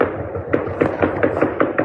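Gunfire at midnight in Ferguson comes as a rapid series of sharp cracks and pops, distant and echoing over a dull background.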